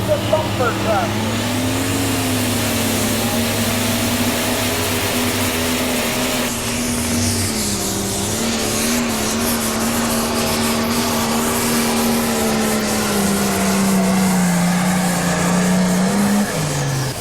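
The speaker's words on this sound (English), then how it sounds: "Here comes the Thumper tractor." A 1997 pro stock pulling tractor roars steadily through a pull at Bowling Green, Ohio, its loud sustained engine drone rising and falling in pitch for the whole stretch while an announcer talks over it.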